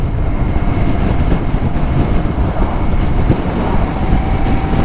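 A Royal Enfield Interceptor 650 engine drones steadily at constant revs pulling uphill in sixth gear, a loud low hum mixed with rushing wind noise.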